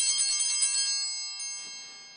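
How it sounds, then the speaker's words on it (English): A small altar bell rung once during the consecration at a Latin Mass, a bright metallic ring that sustains and slowly fades over about two seconds. "Ring the bell one time."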